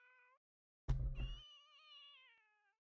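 A cat in Sims 3 Pets on Xbox 360 gives a short mew, then a sudden scratchy burst, then a long, loud, wavering meow that fades out, heard alone and close.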